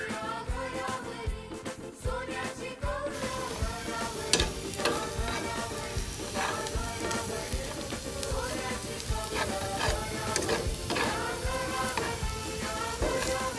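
Homemade masala sizzles steadily in a pan as it is stirred and fried for a spicy prawn chutney, a close, continuous crackle with scraping stir sounds throughout and no speech.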